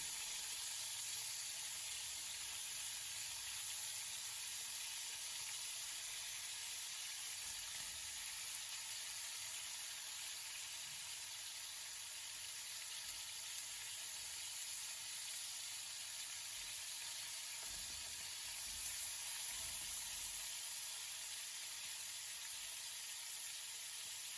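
Chicken pieces frying in a pan give a steady, even sizzle that holds for the whole stretch, close and moderately quiet, with a few faint clatters underneath and no talking.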